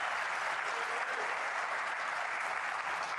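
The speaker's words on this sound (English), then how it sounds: "There's the cheer from the crowd" At a snooker final in Riyadh, a crowd applauds steadily with dense, even clapping and a hint of cheering, loud and continuous from start to end.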